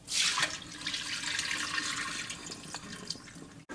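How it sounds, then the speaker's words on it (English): Water from boiled basmati rice pours and drains through a strainer, a steady splashing rush that is loudest at the start and runs on alone for several seconds. "So now the water's boiling and I'm going to strain the rice."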